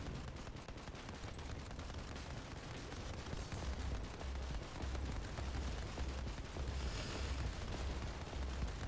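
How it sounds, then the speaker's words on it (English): Tanks rolling forward and firing in a mechs-versus-kaiju tower defense video game, a dense, continuous barrage of overlapping gunfire and blasts at steady loudness with no pauses and no talking. "You see the tanks, they kind of roll forward and then shoot."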